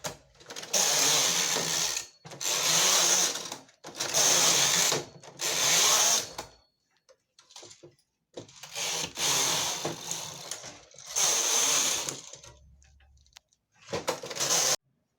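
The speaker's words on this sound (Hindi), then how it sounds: "इसी तरह से ये बेस कैरेज को हम चलाते हैं" Knitting machine lace carriage sliding across the needle bed while a child's cap is made, a loud rasping whir in repeated passes of one to two seconds each, separated by short pauses, close up with no talk.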